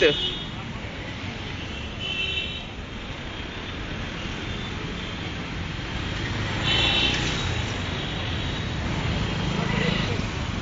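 Dense road traffic from many private cars stuck in a jam, heard as a continuous broad roar of engines that swells slightly toward the end, with someone talking over it.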